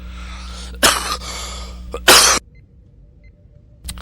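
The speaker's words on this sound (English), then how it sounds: "Apologize for the coughing, friends." Two sharp, harsh coughs burst out close by, one after the other, with a short pause between, then quiet background and a faint click.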